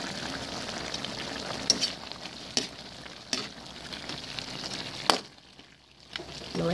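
Pork humba simmering in a pot with brown sugar and crushed black pepper being added, a steady bubbling sizzle broken by a few sharp stirring knocks before a brief drop toward quiet near the end.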